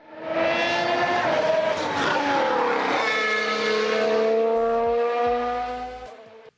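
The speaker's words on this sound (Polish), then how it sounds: "Silniki V616 turbo hybrydowe nie przypadły niestety do gustu kibicom Formuły 1 i zdecydowanie są najgorzej brzmiącymi silnikami w całej historii" A Formula 1 V6 turbo hybrid power unit howls loudly alone at racing speed, its high whining pitch rising and falling through gear changes as the car passes close by, fading at the end.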